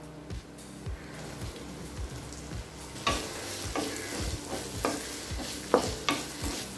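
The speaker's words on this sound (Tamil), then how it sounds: "ரெண்டு உருளைக்கிழங்க சின்ன சின்ன பீசஸா கட் பண்ணி இதில் சேர்த்துக்கலாம்" Small cut potato pieces frying in a pan for potato rice, a soft sizzle with rhythmic stirring clicks and scrapes that grow louder and busier partway through, close by, no voices.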